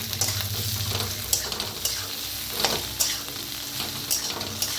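Okra fries in a pan with salt added while it is stirred, a steady close sizzle broken by light scraping and stirring knocks, with no one speaking.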